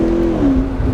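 A McLaren 650S engine revs hard under acceleration, a loud, steady close-up roar with a sustained droning tone that sags slightly midway and then climbs again, with no talking over it.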